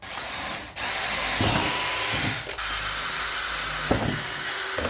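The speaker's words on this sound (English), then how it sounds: "And then I'll go through and drill the rest of them." A power drill whines loudly and steadily close by as it bores into wood, with brief dips where the trigger eases off and then catches again.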